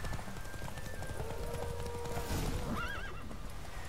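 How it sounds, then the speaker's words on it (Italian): Horse galloping and neighing in The Witcher 3 video game: steady hoofbeats run throughout under ambient game sound, with a clear whinny rising near the end. "il cavallo ormai è stanco, deve riprendersi"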